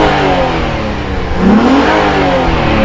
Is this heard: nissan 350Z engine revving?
yes